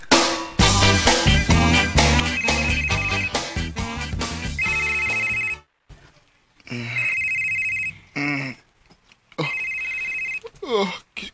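A telephone rings with an incoming call, a steady repeating electronic ring in several bursts with short gaps, preceded by loud music, and brief voices heard between the rings.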